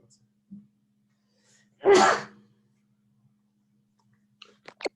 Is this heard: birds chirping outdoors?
no